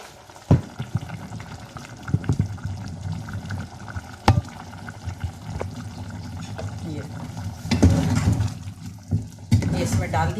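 Beef and purslane leaves cook over high heat in a pot, giving a steady bubbling and sizzling with occasional clinks and stirring knocks, partly under a speaking voice.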